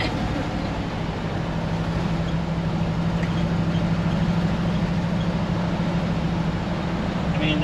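A 1964 Ford F100 pickup with a 292 engine that seems to be missing a cylinder runs steadily at low road speed, giving a continuous rough, droning rumble from inside the cab with no break.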